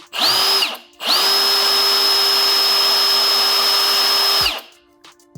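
A Milwaukee M18 Fuel Super Hawg right angle drill on high speed whirs in a steady high-pitched whine, first in a short burst, then a long continuous run of several seconds before spinning down, close and loud with no talking.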